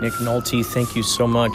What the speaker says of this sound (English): I think you're calling me from the police car that's driving past.